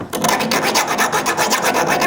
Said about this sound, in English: file straight down this edge. Take those burrs off